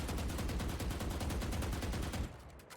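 Sustained automatic fire from the Vandal rifle in the shooter game Valorant, a rapid, even stream of loud close shots that stops abruptly near the end, leaving a brief fading tail.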